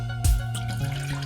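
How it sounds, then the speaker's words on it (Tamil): Tamarind water pours into a pot for horse gram rasam, a steady splashing trickle with a brief louder gush at the start, close and continuous. "ஃபஸ்ட்டு இந்த புளியை ஊற்றிடலாம்."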